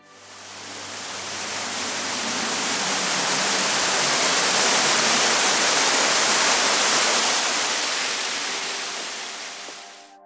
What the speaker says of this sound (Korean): 대둔산 남쪽의 위봉폭포, 60m를 낙하하는 2단의 물줄기는 이곳이 범상치 않은 곳임을 짐작케 한다.